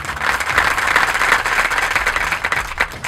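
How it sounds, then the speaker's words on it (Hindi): A dense wash of applause from a game show audience, steady and fairly loud throughout, with many hands clapping at once and no voices over it. "आपकी भरपूर तालियों में"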